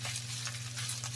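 Kikiam frying in a pan for pancit guisado, a faint steady sizzle with soft stirring scrapes, close by and without talk.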